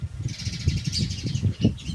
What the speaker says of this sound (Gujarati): ચકલાઓ જો ચણે છે જો કેટલા બધા ચકલા આવ્યા છે